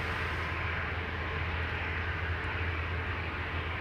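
Airbus A350 jet engines roaring steadily at Amsterdam Schiphol Airport during departures, a loud continuous broadband rumble and whoosh with no break.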